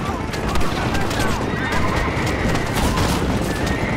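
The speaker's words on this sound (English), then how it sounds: "Oh, that's a horse." A horse whinnies in a video game, a high shrill neigh over hoofbeat clatter and busy game noise, with people talking at the same time.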